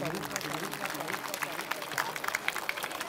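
Audience applause at a Children's Day school prize ceremony in Kargil for the class 12 topper, a steady broadband patter of clapping filling the room, with talk mixed in underneath.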